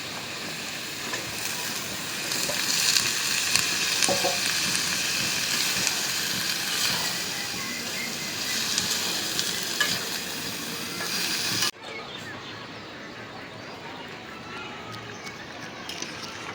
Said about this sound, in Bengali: এখন এই মশলার ভিতরে লাউ দিয়ে কষে নিবি